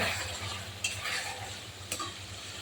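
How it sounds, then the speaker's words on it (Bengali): Mutton pieces hitting hot oil with spices in a pan, a steady broadband sizzle throughout with two sharp bursts of hissing as meat drops in, close and fairly loud, no talking. "এই যে মাংস আমি দিয়ে দিচ্ছি।"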